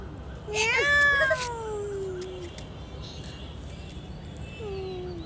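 A pet cat meows loudly and close by in a long rising-falling call, then gives a softer, shorter meow near the end.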